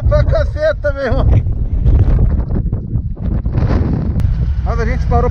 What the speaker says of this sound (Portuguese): Tá ventando pra caceta